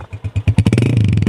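A Honda 125 motorcycle engine heard close and loud, with separate firing thumps quickening within a second into a steady, even running beat.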